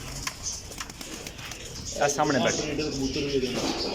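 Pigeons coo near a breeder's paired birds, soft throaty calls rising mostly in the second half beneath someone talking over them.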